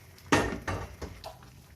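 Rajma is served into a dish with a spoon, giving three or four close knocks and clatters of utensil on the dish in quick succession, each one fading, the first the loudest.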